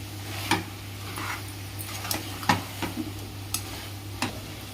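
Country chicken curry being stirred in a pan, with a handful of soft scraping strokes spaced irregularly over a faint steady hum and low background noise, no talking.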